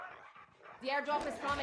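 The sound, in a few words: dog barking, K9 unit in Call of Duty Mobile video game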